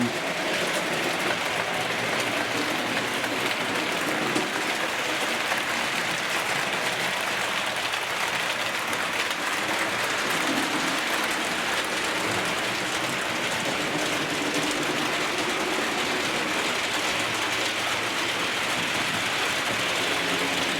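A model railway steam locomotive runs at express speed on a layout, giving a steady, continuous rushing rattle of wheels on track that stays even and moderately loud with no breaks.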